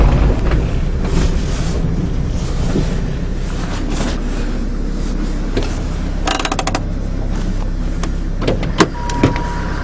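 A diesel caravan is driven along, giving a steady low engine and road rumble with wind noise throughout and a few light clicks and knocks near the end.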